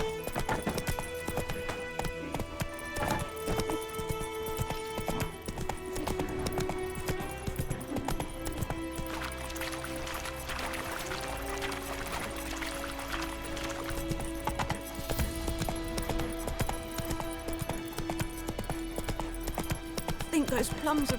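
The horse Roach trots through The Witcher 3 with steady, rhythmic hoof clip-clops that run the whole way, while someone speaks over them and music plays underneath.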